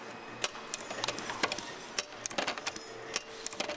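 A harmonica-making machine nails reed plates onto comb bodies with a fast, uneven run of sharp mechanical clicks and taps over a low whirring hum.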